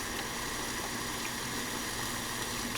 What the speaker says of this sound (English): Sizzling, delicious aroma.